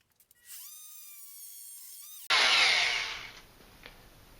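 A Klein oscillating multitool with a carbide tiny-teeth blade starts with a high whine, then bites into a painted metal nail with a loud, harsh grinding burst that fades as the blade goes through, and no one talks.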